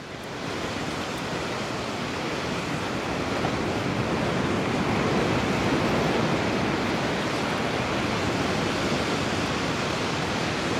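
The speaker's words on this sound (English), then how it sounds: "You've got the ocean sounds, ocean smells." Continuous broadband wash of ocean surf on a beach, a steady rushing roar of waves with no breaks and no voices.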